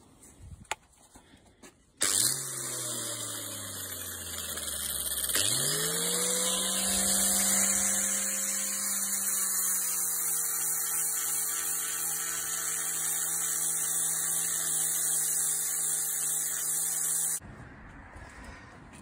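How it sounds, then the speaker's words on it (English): A 120 grit flap disc on an angle grinder polishes a lump hammer: a close, loud whining motor that dips as the disc bites, then holds a steady high grinding drone for about fifteen seconds before stopping. "we are getting to more of a shine from that 120 grit flap disc"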